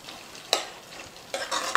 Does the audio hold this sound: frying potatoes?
yes